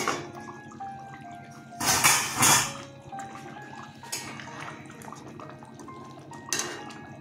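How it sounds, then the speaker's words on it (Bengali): A metal lid is lifted off a cooking pot of Doi Katla fish curry, with a couple of loud clattering scrapes followed by lighter clinks later, set over soft background music. "ঢাকনাটা খুলছি"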